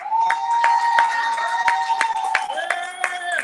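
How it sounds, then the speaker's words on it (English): A small group claps in a quick, uneven rhythm at a graduation ceremony, sharp hand claps mixed with a sustained tone and a few voices. "Round of applause for her."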